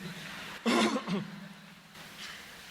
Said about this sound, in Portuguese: eu tenho um pigarro desagradável, que é horrível para o professor